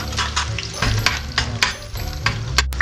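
Onion and garlic sauté in a pan for a native chicken adobo, a close, busy sizzle with rhythmic scraping and stirring strokes and brief clatters of the utensil against the pan, no talking.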